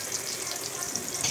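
Rice sautéing in a hot oiled pan for Hyderabad-style vadi biryani gives a steady, close crackling sizzle with light stirring scrapes throughout.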